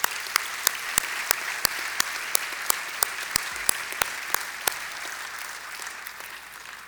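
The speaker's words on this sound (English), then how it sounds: "please join me in giving them a round of applause" Applause from the audience at the IAC 2019 closing ceremony, a steady wash of many hands clapping in a large hall, with several sharper individual claps standing out at even intervals through the run.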